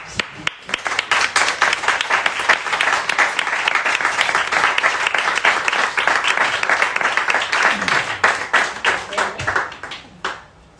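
Sustained audience applause fills a book presentation event in Úbeda, many hands clapping densely and loudly for about ten seconds before thinning out near the end, with some voices mixed in.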